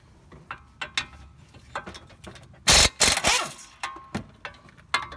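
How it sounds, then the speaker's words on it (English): A ratchet loosens the caliper bracket bolts on a 2007 BMW 328i E90, with close, sharp clicking bursts, a couple of louder clattering ratchet runs in the middle, and scattered clicks around them. "So now I'm gonna remove these two bolts that hold the bracket for the caliper"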